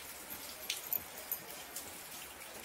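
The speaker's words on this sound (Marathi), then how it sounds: "पाऊस चालू झालाय, गार हवा सुटली" Rain falls outside a porch as a soft, steady patter, with a few sharper drips standing out now and then. It stays fairly quiet throughout, with no voices.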